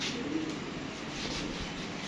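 Soft, low cooing of Teddy and other fancy pigeons kept in a loft, a continuous murmur over steady background noise, close by and without talk.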